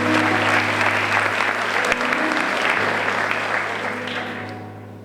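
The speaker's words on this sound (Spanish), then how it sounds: "Un aplauso, que estáis muy sosos." An audience at an award ceremony for promoting volunteering bursts into dense, sustained applause that stays loud throughout and tapers slightly toward the end.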